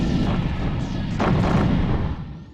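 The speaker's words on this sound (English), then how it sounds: "Heavy incoming fire." Heavy incoming fire in the space combat video game Colony Wars: dull booming blasts and rumbling impacts in a dense, continuous barrage with a louder burst midway, fading near the end.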